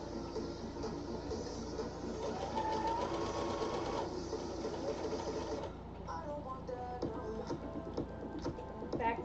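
A sewing machine stitches in steady, fast bursts during a live sewing-and-chatting session, running continuously before stopping short, with faint voices in the background.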